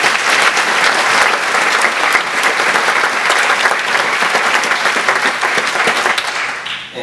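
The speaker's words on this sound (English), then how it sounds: "So please give him a round of applause." Sustained loud applause from a crowd, dense clapping throughout that tapers slightly at the end.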